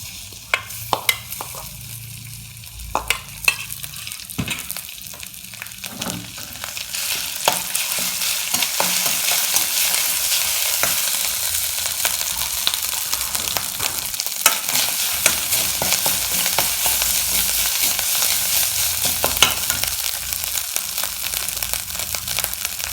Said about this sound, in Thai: เอาน้ำมันใส่ครับ ใส่นิดนึงพอ พริกแกงครับ